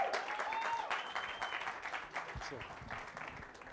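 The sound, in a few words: audience applause welcoming a speaker on stage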